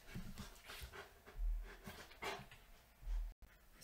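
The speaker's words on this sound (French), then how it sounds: "il y a mon chien qui fait du bruit derrière" A dog pants and whimpers faintly in the background indoors, with short breathy bursts and soft whines repeating irregularly over a few seconds and no talking.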